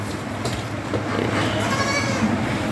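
A goat kid bleats amid steady rain noise, short wavering cries rising above the constant patter, fairly close, with no clear talk.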